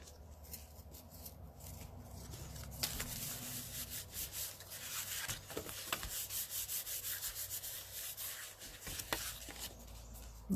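Paper rubbed firmly by hand over a stamped cardstock piece to press it down, giving a soft continuous scuffing friction with small taps and pulses, close and fairly quiet, with no voices.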